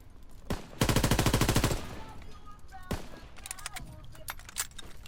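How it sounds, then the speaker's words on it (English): Rifle and automatic fire in Call of Duty WWII multiplayer, a rapid burst of machine-gun shots followed by scattered single cracks and further bursts at varying distances, with game ambience underneath. "that's a guy just shooting his rifle somewhere in the distance"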